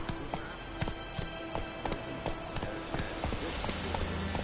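Roach, the horse in The Witcher 3 video game, gallops with steady, rhythmic hoofbeats that stay evenly spaced and fairly close throughout, over a continuous bed of game ambience.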